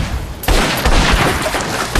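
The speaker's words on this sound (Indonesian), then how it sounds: "Si Amang yang mendengar tembakan langsung turun dari singgasananya" Gunshots in a film scene, where a sharp burst of gunfire breaks in after a quieter moment and continues as loud, rapid cracks and booms.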